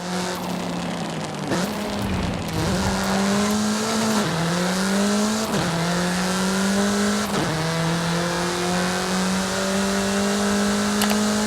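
A car in the Forza Horizon 5 racing game accelerates hard through repeated gear shifts, its engine note climbing and dropping several times in a steady rising drone, loud and close with faint tire noise.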